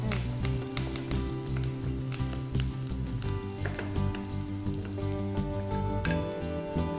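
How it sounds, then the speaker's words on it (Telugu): Onions frying in oil in a kadai, a steady, close sizzle with crackling pops, heard under a continuous hum of tones that runs throughout. "ఆనియన్ బ్రౌన్ కలర్ వచ్చేదాకా ఫ్రై చేస్తూ ఉండాలి"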